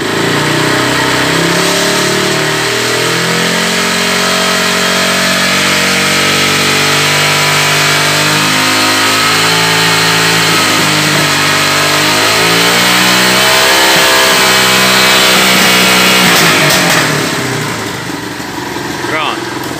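A Honda CG 150 ES motorcycle engine revs up and down repeatedly, loud and close, with its pitch sweeping in waves before settling back toward idle near the end.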